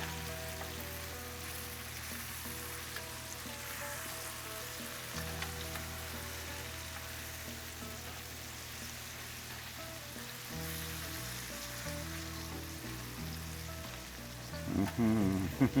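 Mushrooms fry in a pan with a soft, continuous sizzle and crackle. The sound stays quiet and steady over a low, tonal backing.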